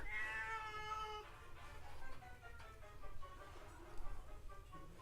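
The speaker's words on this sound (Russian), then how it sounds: "This is Артур favorite cat" A big, fat domestic cat meows loudly and close up in a drawn-out cry, then makes softer, fainter mews over a quiet indoor background.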